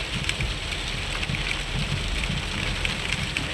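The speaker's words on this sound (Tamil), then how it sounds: "பார்த்தீங்கன்னா மழை நல்லாவே வருது." Rain falling in Kothagiri in the Nilgiris hills: a dense, steady hiss of rain close to the microphone, continuous and loud from start to finish, with no talk.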